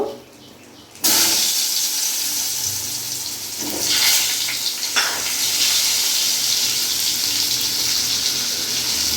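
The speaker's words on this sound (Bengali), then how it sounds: "এই তেলের মধ্যে এখন আলুগুলো আমি ভেজে নেব।" Potatoes hit the hot mustard oil left from frying katla fish, and the quiet kitchen bursts into a loud, sustained sizzling hiss that carries on steadily without any talking.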